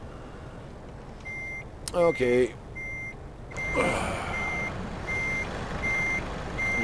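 Backup beepers on a truck in Euro Truck Simulator 2 sound in evenly spaced high beeps over the engine rumble, with an air hiss and clatter partway through and someone speaking briefly.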